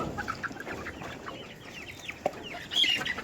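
Chickens cluck nearby in soft, intermittent bursts, with a louder flurry of clucking near the end over low background noise.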